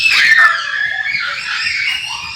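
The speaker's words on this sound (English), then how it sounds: "And they just ran out of the room screaming," Children scream loudly and continuously for a couple of seconds as they run out of a room, their high-pitched shrieks close and piercing.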